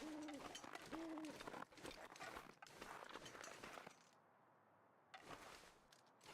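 Birds calling outdoors on a hillside, two short tonal calls near the start, amid rustling and clothing noise, followed by a quieter stretch of faint background.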